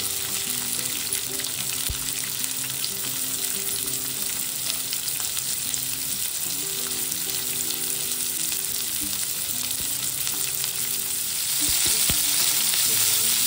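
Onion frying in hot oil with cumin and curry leaves for bread pakoda, a loud continuous close sizzle and crackle with occasional stirring clicks, growing slightly louder near the end.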